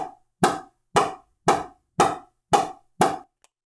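An old Ronbus pickleball paddle strikes a ball in seven evenly spaced hits, each a crisp, close, hollow thunk with a deep body, followed by one faint trailing tap.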